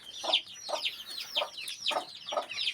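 A large duck, one of a flock kept with ducklings about twenty days old, gives five evenly spaced raspy calls. The calls are moderately close and stand alone with no talk.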